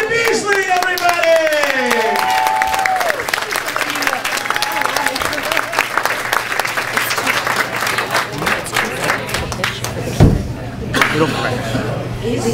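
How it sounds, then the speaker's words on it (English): Loud audience applause for a stand-up comedian at a comedy club in Arcola, Illinois, sustained and dense throughout, with cheers and shouting voices rising over the clapping and a single sharp knock near the end. "Let's have a round of applause for Tonya Beasley, everybody!"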